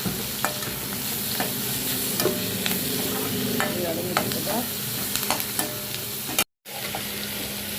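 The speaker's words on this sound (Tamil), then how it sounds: "கொஞ்சம் கருவேப்பிலை சேர்த்து நல்லா வதங்கணும் வெங்காயம் வந்து நல்லா வதங்கணும்" Onions and curry leaves sauté in a pan for a mushroom gravy, with a steady close sizzle and scattered scraping clicks from stirring. The sound cuts out briefly near the end, then resumes.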